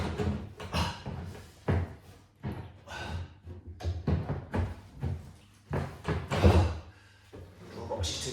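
A kitchen drawer front being clipped onto its drawer box, producing a series of irregular close wooden thuds, knocks and clunks as it is lined up and pushed into place.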